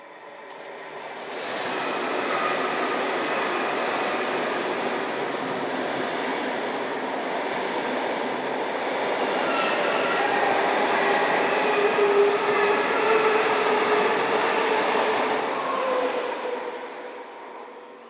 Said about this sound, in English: This pair of ETR 610 are working a service from Milano to Basel.